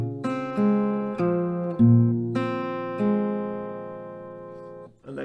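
An acoustic guitar picks a riff on open strings, with four or five clear, sustained single notes struck one after another at a relaxed pace, close and alone.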